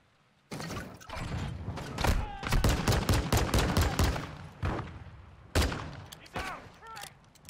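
Gunfire in the Modern Warfare 2 campaign, dense bursts of automatic fire and loud sharp shots in rapid succession, with a brief lull before more close, heavy volleys.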